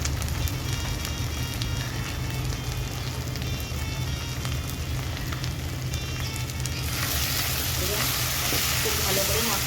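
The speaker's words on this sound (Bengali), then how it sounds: "খুব ভালো করে মশলাটাকে ভাজা ভাজা করে নেব।" Chilli powder and spices fried in oil in a pan for a sea crab curry, a dense, steady sizzle with stirring, close and continuous, swelling into a brighter crackle near the end, with no talking.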